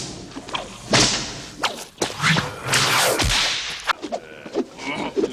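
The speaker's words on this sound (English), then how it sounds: "we built up a library of whip cracks, which was the basis for Indy's sound." Several sharp whip cracks recorded outdoors in an open field for the Indiana Jones sound effects, each a loud snap preceded by a swishing whoosh, spaced irregularly with quieter thuds between them and no speech.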